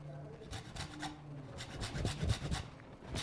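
Lime peel is grated into a mango pie mixture with quick, rhythmic rasping strokes, close up and fairly quiet, without talk.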